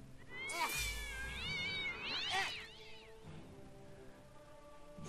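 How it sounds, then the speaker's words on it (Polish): A cat in the video game South Park: The Stick of Truth lets out two drawn-out, wavering meows close up, the second rising and falling, followed by quieter game ambience with no talking. "Oj, kotek."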